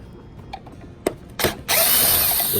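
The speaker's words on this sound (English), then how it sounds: "which you can get to with a drill" A short burst of a power drill revving up close, after a couple of clicks and clunks, then a steady high whine to the end, driving screws on a motor.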